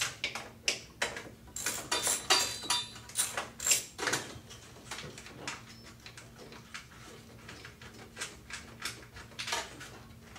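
Ratchet with a 10 mm socket backing out screws on a power supply, giving a steady run of quiet, close mechanical clicks in bursts with short pauses between them.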